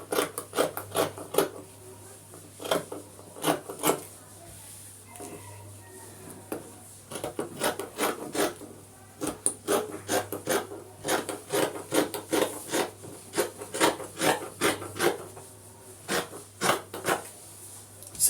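Scissors cut through fabric for a puffy flared sleeve in quick, close, crisp snips that come in uneven bursts with short pauses between them.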